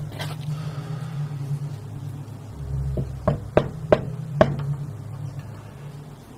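Someone knocks on a door about four times in an uneven cluster, sharp close raps over a low engine-like hum, with no talking during the knocks.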